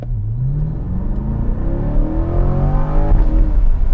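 Chevrolet Corvette accelerating hard on a road, the engine note climbing steadily in pitch as it revs up, loud and close with no talk over it.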